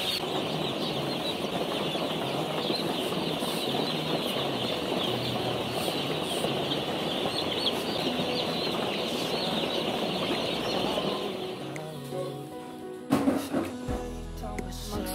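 Broiler chickens in a farm house make a dense, continuous chorus of clucking and chatter at close range, holding steady before thinning out near the end as handling and knocking noises break through.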